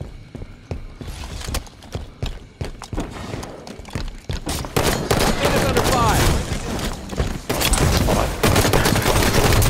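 Rapid bursts of gunfire ring out in a Halo 5: Guardians Team Slayer match, with sparse shots at first and then dense, continuous close firing.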